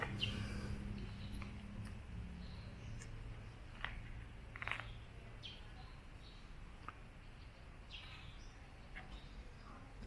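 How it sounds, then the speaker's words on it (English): Birds chirp at a Buddhist temple in Chiang Rai, with faint scattered calls and short tweets over a steady outdoor ambience, fairly distant throughout, with a low hum early on. "Got birds chirping."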